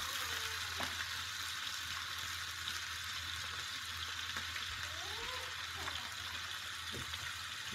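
Tomatoes sizzle and fry in a pan for a full English breakfast, a steady close hiss with a few faint scrapes and light pops, and a voice talks briefly over it.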